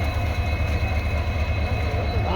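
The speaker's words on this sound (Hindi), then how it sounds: "थ्रॉटल खुलते ही सुनाई देने वाली दमदार हॉकिंग और रात के सन्नाटे को चीरती हुई उसकी सीटी हॉकिंग" Diesel locomotive hauling the Bikaner express, a steady loud engine drone with low throbbing rumble running continuously throughout; no clear horn stands out.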